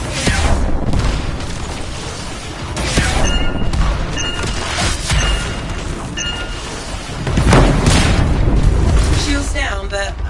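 Explosive detonation inside a foundry in the Anthem video game, loud heavy booms and crashing bursts that rise and fall in several surges, with a large one near the end.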